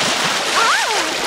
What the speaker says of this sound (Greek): Αρκετά με τα πλατσουρίσματα.